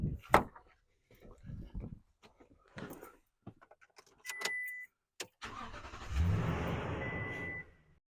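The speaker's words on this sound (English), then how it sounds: "get in the car and try to start it" A car engine cranks and catches on a jump starter, then settles into a steady idling rumble after a few scattered clicks and knocks.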